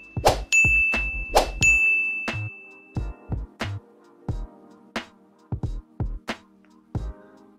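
A notification bell sound effect rings out in a quick run of clear, bright dings, first a couple of long ringing tones and then a string of shorter, evenly spaced chimes that die away quickly.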